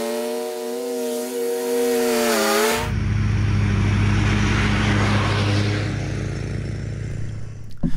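A Hustler zero-turn lawnmower with a mulcher kit drives at full speed through long grass: a humming engine tone gives way to a loud, steady roaring rush of cutting that holds to the end, where a brief clatter sounds.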